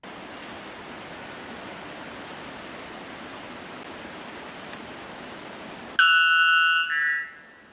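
A loud electronic-sounding bird call resembling a fire alarm, a harsh buzzing tone bursting out near the end after several seconds of steady rushing noise.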